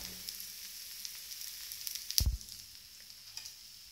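A wheat flour dosa cooks in oil on a hot pan, giving a faint, soft sizzle broken by one brief knock partway through.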